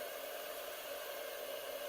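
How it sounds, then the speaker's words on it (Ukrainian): A 2 kW hair dryer blows with a steady, even whoosh and a constant motor whine, running without a break. "Вмикаємо, дивіться, фен."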